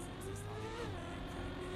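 Car accelerating in Trackmania, a steady close engine drone with the pitch climbing and dipping slightly as it revs, continuous and quiet with no talk.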